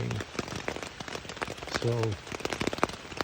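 Rain pattering on a tent from inside, a soft continuous drumming of drops on the fabric while people talk quietly underneath.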